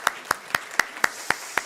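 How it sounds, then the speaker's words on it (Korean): Clapping during a Sunday church service: seven crisp, evenly spaced claps in a steady rhythm, close and distinct, sounding like a single pair of hands rather than a full crowd. "우리 박수하겠습니다."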